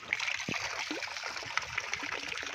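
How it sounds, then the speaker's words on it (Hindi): Tubewell water pouring onto a farm field, a steady rushing trickle and splash running continuously at close range. "तो लें जी पानी डालने लगे"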